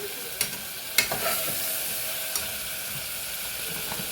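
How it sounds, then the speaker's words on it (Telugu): Tomatoes, onions and garlic sauté in a pan with a soft, steady sizzle, broken by a few sharp stirring clinks early on, quiet and close, with no talk. "టమాటాలు కానీ, ఎల్లిపాయ కానీ, మళ్ళీ ఈ తెల్లగడ్డ కానీ బాగా తొందరగా మగ్గుతాయి"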